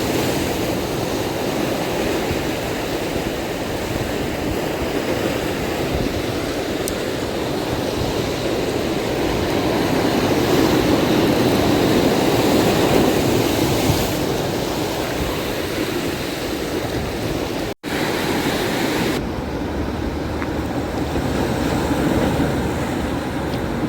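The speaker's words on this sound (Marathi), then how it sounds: "पाणी बघता एकदम रफ आहे." Rough sea waves surge and wash steadily along the Mumbai shore during rod fishing, a broad, continuous roar with a brief dropout near the end.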